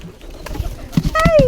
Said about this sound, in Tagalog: ito yung mga kalapati oh, mga baby kalapati na malalaki na